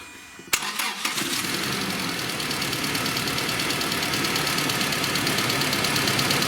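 A Toyota Prado 120 engine cranks and catches, then settles into a loud, steady running drone with a rough, uneven undertone as if one cylinder is misfiring, close and continuous with no talking.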